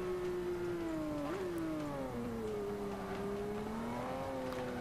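Car engine in Forza Motorsport 5 revving hard in second gear, a continuous loud droning tone that dips briefly at a shift and then climbs and falls steadily.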